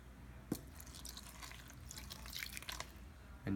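Water is poured into a bowl of cake mix in a home kitchen, a faint soft trickle and splash with a brief drip at the start and a small clunk at the end, quiet and close.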